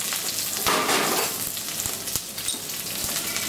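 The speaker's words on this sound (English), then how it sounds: "So here we go with our cabbage, our carrots, our onions, our mushrooms, and the butternut squash." Cabbage, carrots, onions, mushrooms and butternut squash stir-fry in a hot pan with fish, giving a dense, close sizzle broken by occasional spatula taps and clicks, with no voice over it.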